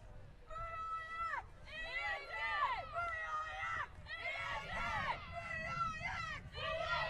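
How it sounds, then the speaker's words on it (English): Sideline crowd at a women's ultimate frisbee match between Auckland Zodiac and Auckland Vixens at the NZ Nationals, with steady cheering and shouted voices rising and falling over constant outdoor crowd noise. "Cheer from Vixens"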